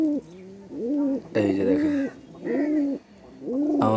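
A pet male green doaj pigeon with a runny nose coos close by in repeated rolling phrases, while a person speaks briefly between the calls.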